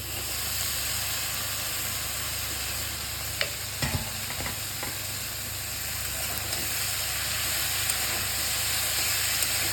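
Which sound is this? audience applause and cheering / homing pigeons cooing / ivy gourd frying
ivy gourd frying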